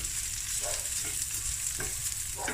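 Uncooked basmati rice and lentils frying in a pan, a close, steady sizzle with short scraping stirs at regular intervals.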